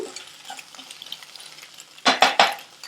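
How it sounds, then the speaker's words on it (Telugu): Egg, onions and masala get stirred in a frying pan, with a soft sizzle and then a few loud scraping strokes of a utensil against the pan near the end. "ఎగ్కి ఆనియన్స్కి మసాలా అంతా పట్టేటట్టు మంచిగా తిప్పుకోవాలి"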